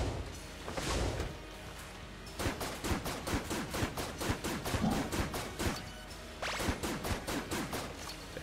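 Rapid automatic gunfire from the Gemini Rifle in Enter the Gungeon, firing in fast repeated bursts of sharp shots, with a short gap before a final volley.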